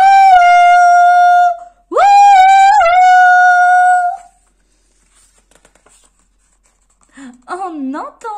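A voice imitates a wolf howl in two long, loud, wavering calls, one after the other. After a quiet pause, a voice begins speaking.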